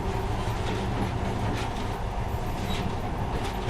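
Monorail train in the video game Metro Last Light rumbling steadily through tunnels, a constant loud mechanical drone with faint rattling, and no talking.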